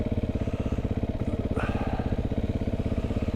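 KTM motorcycle engine idling with a close, pulsing, steady chug while stuck on a muddy trail, with a brief higher rev partway through.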